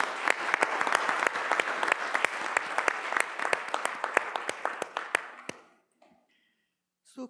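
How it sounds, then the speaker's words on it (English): A conference audience at a health session applauds people with lived experience, many hands clapping with sharp distinct claps standing out, steady then fading out near the end into near silence. "So a round of applause for people with lived experience."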